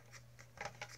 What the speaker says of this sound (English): The scissors were not wanting to cut.